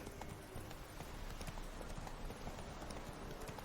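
Roach the horse gallops in The Witcher 3, a steady run of muffled hoof clip-clops that continues throughout over a dense, constant game background, with no talk.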